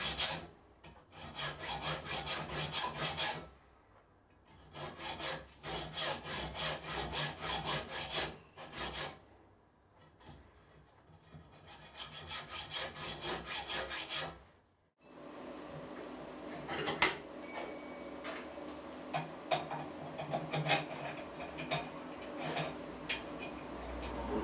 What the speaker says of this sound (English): A simple hacksaw slot across the centre will be more than sufficient.